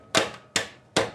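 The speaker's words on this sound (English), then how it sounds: "the snare drum hitting on 2 and 4" Three crisp, sharp drum hits land evenly about 0.4 seconds apart, close and alone, like a snare striking the backbeat.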